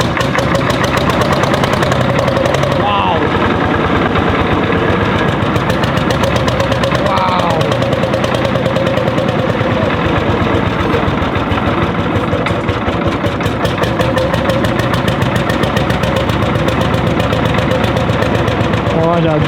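Lanz Bulldog tractor with a 10-litre two-stroke engine running, a loud, close, steady thumping chug that continues throughout, with people talking faintly beneath it.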